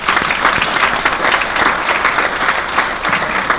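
An awards-event audience applauds for FDU at a family business of the year ceremony, dense continuous clapping from a sizable crowd, steady and even from start to finish.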